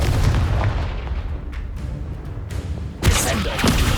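An explosion from the Confringo blasting spell in Hogwarts Legacy hits as a loud, sudden boom near the end, after a stretch of rumbling combat noise.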